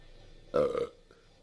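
A single loud, throaty burp lasting under half a second rises out of quiet background noise, with no talking around it.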